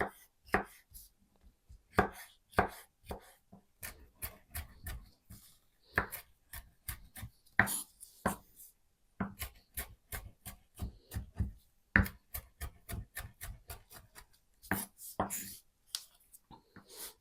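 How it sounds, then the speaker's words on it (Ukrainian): Bell pepper chopped finely with a kitchen knife on a board for a marinated tomato and onion salad, a long run of crisp, close knife taps in quick uneven bursts with brief pauses between. "Я зараз так наріжу, потім ще ножем пройдуся зверху."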